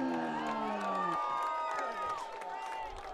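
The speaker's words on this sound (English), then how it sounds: "That one got the Regis Jesuit crowd fired up" Crowd at a high school boys lacrosse game between Cherry Creek and Regis Jesuit cheering after a behind-the-back goal, with loud whoops and shouts swelling and then easing, and an announcer talking over it.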